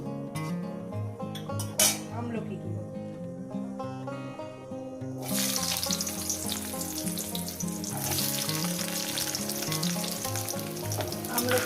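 Dried red chillies fry in hot oil, a steady, close sizzle that runs the whole time and swells louder about halfway through, with brief metallic clinks at the start and no talking.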